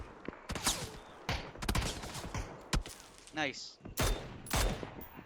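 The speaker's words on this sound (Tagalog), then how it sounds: "may bumabaril Ayun pala yung bumaril sa akin" Video game gunfire in repeated sharp bursts, some near and loud, some farther off, with a player speaking briefly between the shots.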